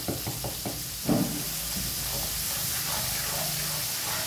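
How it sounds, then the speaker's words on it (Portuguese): Garlic frying in hot oil in a pan for seasoned beans, a steady close hiss and sizzle following a few light knocks of utensils, with no talking. "E aí eu vou fritar esse alho."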